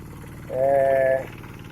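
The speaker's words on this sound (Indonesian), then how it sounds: "operator traktor sawah dalam meratakan tanah pertanian yang hendak dipakai atau hendak ditempati" A light hand tractor working in a wet rice paddy, levelling soil for planting: a continuous engine drone, swelling into a louder, whining tonal surge midway before settling back.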